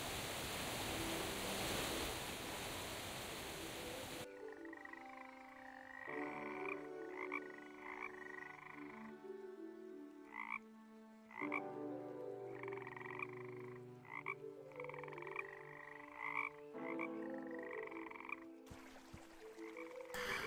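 Frogs croak in repeated rhythmic bursts over a quiet ambient backdrop in the video game Woven, opening with a stretch of rushing water-like noise before the croaks begin.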